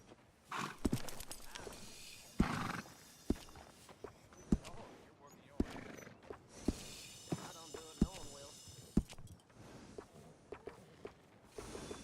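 Horse hooves clop in a steady walking rhythm with sharp individual hits, and a whinny rises partway through, clear and close, from the video game Red Dead Redemption 2.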